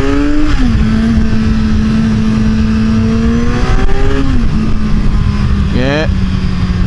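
A 2014 Kawasaki Z1000 Special Edition motorcycle engine drones loud and close during a test ride, its pitch stepping up and dropping through gear changes with a rising rev near the end, wind noise throughout.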